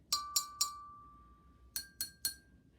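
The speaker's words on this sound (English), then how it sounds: "you can hear that the blue glass has quite the higher pitch of sound in comparison to the green" A pen taps a water-filled glass three times, then after a pause taps another three times, each strike a clear ringing clink that fades quickly.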